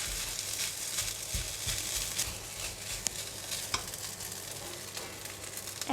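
Garlic rice stir-fries with minced pork and egg in a pan, producing a moderate, continuous sizzle broken by repeated scraping and stirring clatters, no talking.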